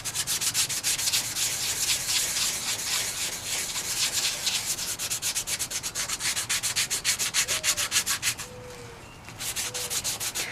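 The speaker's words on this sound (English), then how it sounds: "You can start sanding the back" Rapid back-and-forth sanding strokes rub over spackle-filled patches on the back of a composition doll, a dense scratchy rhythm that runs steadily with a short pause near the end.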